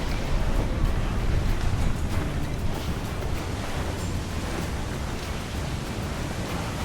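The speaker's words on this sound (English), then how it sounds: "Dark skies and rough seas there!" Rough open sea with surf and wind, heard as a steady, dense wash of breaking waves and gusting air that fills the whole stretch without pause.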